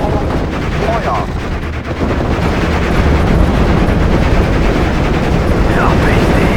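Continuous heavy gunfire and artillery from a Steel Division battle, a dense, loud barrage of shots and rumbling explosions filling the whole stretch with no pause.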